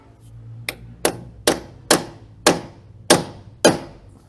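A screwdriver chisel punch is hammered into a tight gap during repairs on McHale and Kuhn LSB 1270 farm machinery: seven sharp, ringing strikes land about every half second, loud and close.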